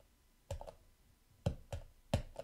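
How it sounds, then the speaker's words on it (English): A microphone falls onto a computer keyboard, giving three sharp clattering knocks spaced over a couple of seconds, close and fairly loud against a quiet background. "the microphone fell on the keyboard"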